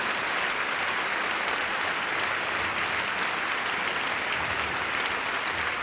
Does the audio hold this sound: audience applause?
yes